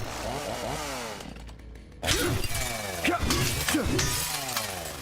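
Glass shattering in the video game The Outer Worlds, a loud crash of breaking glass that bursts in suddenly after a brief near-silence, with scattered tinkling fragments trailing off and a voice talking beneath it.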